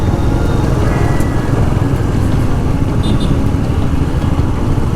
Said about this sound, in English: 60-70 bikes behind us, Royal Enfield, all kind of Royal Enfields, Bullet, Thunderbird, 350 Classic, old and new both